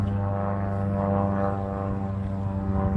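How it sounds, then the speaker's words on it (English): A propeller airplane flies overhead near an airport during an outdoor painting session, a steady droning engine hum holding loud and constant throughout. "the airport's not too far from here, so we're gonna hear a couple of airplanes going by too"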